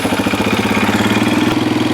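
Honda CRF230 motorcycle engine running steadily after being started without choke, a loud, even thumping idle throughout with no talking.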